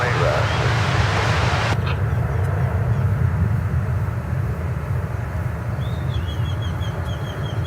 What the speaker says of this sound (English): Here goes American Flight 2720 to Tucson, Arizona. It's an Airbus